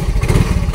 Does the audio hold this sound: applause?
no